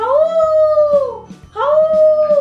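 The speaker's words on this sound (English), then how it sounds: "the wolf nimbly bounded forth and howled three times" A wolf howls in two long, loud, sustained wails, the second rising in again after a brief gap, close and alone with no talk.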